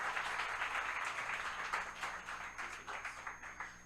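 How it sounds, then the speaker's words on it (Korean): A church revival-meeting crowd clapping for a man, steady and fairly close, thinning slightly as it continues. "Let's clap for this gentleman."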